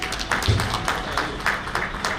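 Audience applause at the valedictory session of a national convention, a steady wash of many hands clapping with a few sharper individual claps standing out, moderately loud and sustained throughout.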